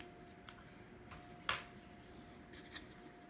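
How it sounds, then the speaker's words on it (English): Scissors trim craft material for an Advent wreath: a faint, quiet scene with one sharp snip standing out near the middle and a few softer clicks and snips around it. "So I'm going to trim it off a little bit."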